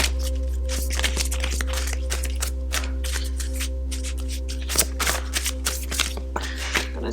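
Large format tarot cards are shuffled by hand in a steady run of crisp riffling slaps and paper flutters, close and fairly loud, over a constant low electrical hum, with no talking.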